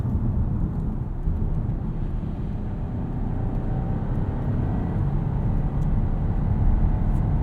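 Steady low engine and road drone from inside a 2021 Volkswagen Arteon SEL Premium R-Line with an 8-speed automatic, a smooth, continuous cabin hum at moderate level with no talking.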